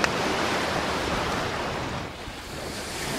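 Steady broadband wash of surf rolling onto a beach on Ajishima island, continuous and fairly loud, with some wind buffeting the microphone and no voices.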